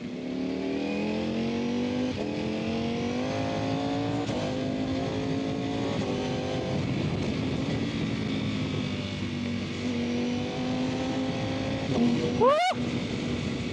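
A Ducati Panigale V4R superbike with a 999 cc V4 engine, ridden on the road, its exhaust note rising and falling through repeated gear changes, steady and close, ending in a sharp rev.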